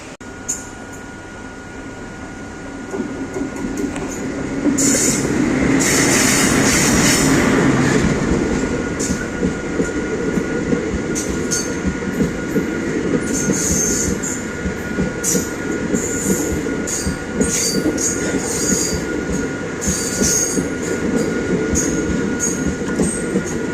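The Chennai–Hubli express train rumbles loudly past a station at close range, a steady roar of wheels and carriages with occasional metallic squeals and clatter.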